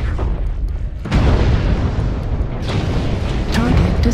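A mech blows up in MechWarrior Online on a Tourmaline Desert map, a loud booming blast at about one second that leaves a sustained roaring rumble, with a voice speaking over the game sound.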